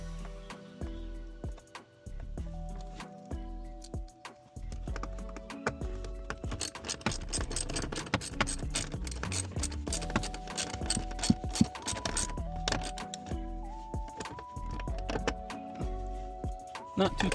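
Ratchet tightening a bolt on a Tesla Model 3 interior trim panel, with bursts of quick mechanical clicking close by, interspersed with pauses and a voice speaking.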